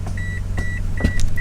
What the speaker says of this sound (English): So I get a really annoying beeping sound every time I start driving.